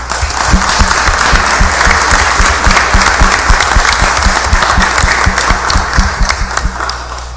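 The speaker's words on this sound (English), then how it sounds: "So if you would, just a quick round of applause for Elvis Presley." A city council meeting crowd in Biloxi gives a sustained round of applause, dense overlapping claps holding steady and loud from start to finish with no talking.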